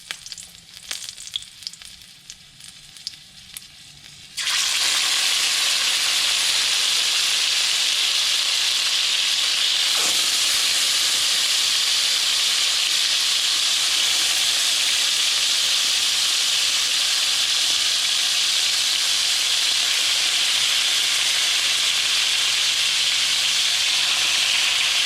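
Onion or garlic dropped into hot oil in a pot, setting off a sudden loud, steady sizzle that starts after a few quiet seconds and continues evenly with a brief crackle midway, part of a brown stew chicken preparation.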